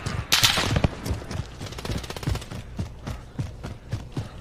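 Rapid gunfire crackles in the battle-royale shooter Call of Duty Warzone, a loud close burst at first followed by a long rhythmic string of sharp shots, alone without voices.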